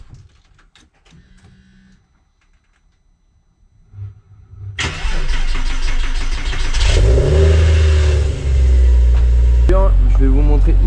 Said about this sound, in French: On va mettre le moteur en route et on va le laisser chauffer un peu pour purger.